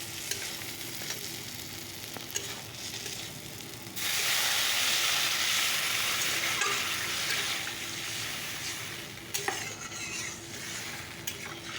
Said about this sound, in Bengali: মশলাটা ভাজা ভাজা হয়ে গেছে তো চলো এবার ঝোলটা দিয়ে দিই